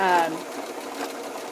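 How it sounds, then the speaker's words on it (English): A sewing machine runs a forward-and-backward zigzag stitch, a steady mechanical whir close by, with a voice speaking briefly at the start. "it's sewing forward and backward every single stitch"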